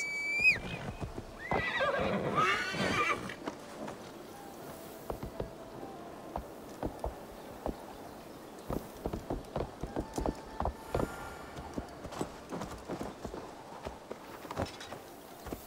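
A horse whinnies loudly near the start in the video game Assassin's Creed Valhalla, followed by a long series of hooves clip-clopping at an uneven walking pace, fairly close and clear.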